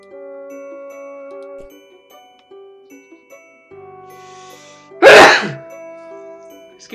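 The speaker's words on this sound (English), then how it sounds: "Felt a sneeze sneaking upon me." One sharp, loud sneeze bursts out near the end, following soft game chimes and tones from a point-and-click adventure playing quietly beneath it.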